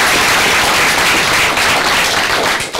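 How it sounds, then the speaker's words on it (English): Dense, steady applause from an evening audience at an elevator pitch practice event, a loud wash of clapping that holds evenly for a few seconds and dips briefly at the end. "Let's give them a round of applause"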